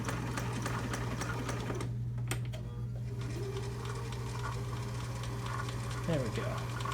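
A Kenmore Sears 148.14220 sewing machine runs steadily throughout, a continuous mechanical hum with rapid ticking stitches, nearby and moderately quiet.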